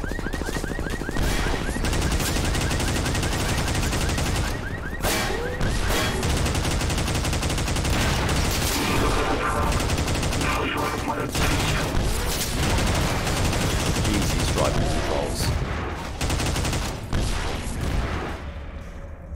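Loud, nonstop gunfire in the video game Entropy: Zero 2, rapid shots and bursts packed tightly together over dense game noise, with no pauses for the whole stretch.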